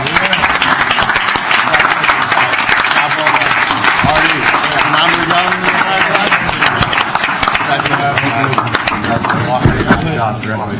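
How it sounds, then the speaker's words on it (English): An audience at a city council meeting breaks into loud, sustained applause for a group of honored young athletes and their coaches, with cheering and voices mixed into the continuous clapping. "Let's give them a round of applause."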